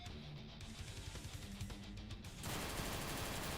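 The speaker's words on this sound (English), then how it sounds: "An M16 type rifle." Rapid automatic fire from an M16-type rifle in the Madness Interactive Reloaded video game, a dense burst of repeated shots that grows louder and broader toward the end, with no talk.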